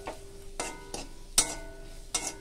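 Okra curry in a pan gets stirred after milk is poured in, with a soft simmering hiss under several distinct scraping strokes of a spoon against the pan, fairly quiet and close, and no voices.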